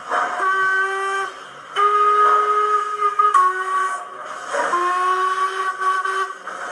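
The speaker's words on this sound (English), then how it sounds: "Listen at those whistles." Several long, shrill steam whistle blasts from a Hornby Black 5 model steam locomotive follow one another, close and loud, with short breaks and hissing between them.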